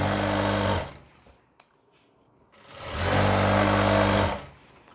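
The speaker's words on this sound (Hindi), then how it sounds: "मैं सेंटर में एक सिलाई लगा रहा हूँ" A sewing machine runs a stitch down the centre seam of a ladies' suit, two loud steady whirring bursts of motor and needle with a near-silent pause between them.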